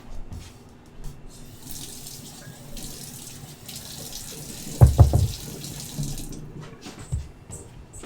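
Tap water runs briefly into a bowl of dough mixture for a ratatouille galette crust, a short gush near the middle over quiet kitchen background, no talking.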